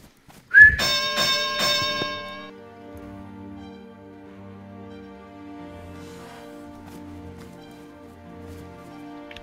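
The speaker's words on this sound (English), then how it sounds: "when I whistle, you can start." A whistle blown to start an amateur boxing match in DayZ gives a sharp, loud blast that drops into a sustained ringing musical tone. The tone decays slowly over several seconds, and nobody speaks.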